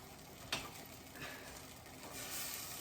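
A spoon stirs a thick marshmallow and chocolate mixture in a pot, with a soft, quiet scraping and a faint sizzle underneath and one sharper knock early on.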